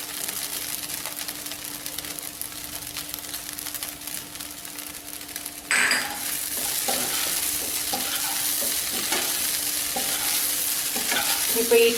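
Idli pieces roasting and being stirred in a nonstick pan, with a steady frying sizzle that jumps louder midway as stirring scrapes and clatters continue throughout.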